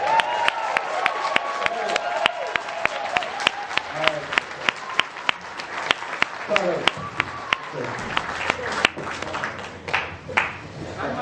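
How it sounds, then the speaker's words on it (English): Wedding guests applaud the bride and groom, a steady patter of many hands at moderate distance, with sharp louder claps and scattered voices mixing in as the clapping thins toward the end. "we'll relay what she said to us through a round of applause for the bride and the"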